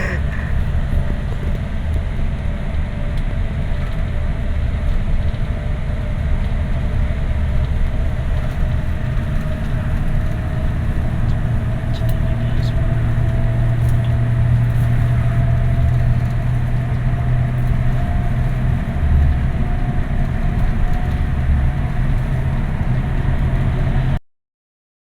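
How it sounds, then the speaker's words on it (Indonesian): A steady, loud engine drone and road rumble from inside a moving Agra Mas premium bus on the Jogja-Jakarta route as it overtakes a Rosalia Indah double-decker bus, continuous with no talking. "sesama bus premium kita overtake bus Rosalia Indah double decker"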